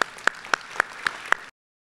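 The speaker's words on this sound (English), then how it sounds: "So please, can we give a round of applause to the parent coordinators?" Clapping at a middle school graduation ceremony, six sharp, evenly spaced claps ringing out close and clear before everything drops to silence.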